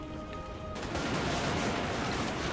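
Massed gunfire from units in a Total War: Warhammer 2 battle: after a quieter lead-in, a dense, loud crackling volley erupts and rolls on continuously as an overlapping fusillade.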